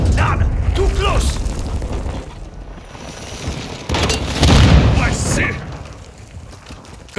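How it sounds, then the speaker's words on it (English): Cruise missile explosions in the video game Call of Duty Modern Warfare 2 during a Team Deathmatch on Shoot House, heavy booming blasts rolling in the middle of the clip amid mechanical clatter, with voices calling out over the action. "Hostiles launched a cruise missile!"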